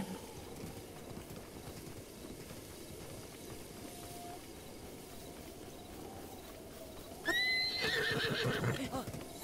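Spotted horses in the video game Breath of the Wild give a short, bright neigh near the end, over faint in-game ambience and a brief lower tone earlier; the neigh stands out loudly for a couple of seconds.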